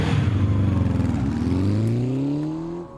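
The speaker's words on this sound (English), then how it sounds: "hearing the bike's engine roar to life" A motorbike engine in the video game 428: Shibuya Scramble roars loudly, then its pitch rises steadily as it revs and accelerates away before cutting off abruptly.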